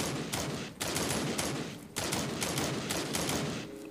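Sustained automatic gunfire in the zombie shooter game Into The Dead 2, dense rapid bursts broken by brief pauses, loud and continuous.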